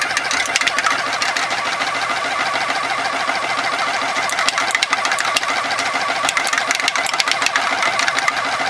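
A motorized, automated spray paint can shaker runs continuously, its small motor giving a steady, close mechanical rattle with rapid knocking from the tilted can for the whole stretch.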